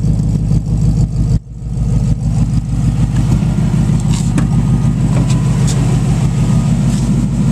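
Supercharged 2002 Ford F150 Harley-Davidson crew cab engine with aftermarket exhaust runs at a steady, loud idle close by, a deep continuous rumble with a brief dip near the start.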